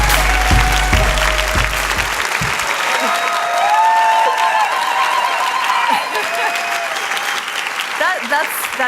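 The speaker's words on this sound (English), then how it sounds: "huge round of applause, please," Audience applause greets speaker Zoe Quinn at the XOXO Festival 2015, a dense, steady wash of clapping from a large crowd lasting throughout, with a few low thumps near the start and some cheering mixed in.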